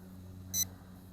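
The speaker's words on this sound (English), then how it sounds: "I'm getting a beep warning me that my battery's getting low." A single short electronic beep, high and bright, rises briefly above a steady low motor hum: a low-battery warning from a KK10S folding GPS camera drone in flight.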